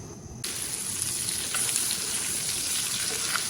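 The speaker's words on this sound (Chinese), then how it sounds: "再次把里面的油给炒融化" Braised pot pork sizzles and crackles in a hot wok as it is stir-fried to melt the fat, a steady loud frying hiss starting abruptly and continuing with faint scraping of the spatula.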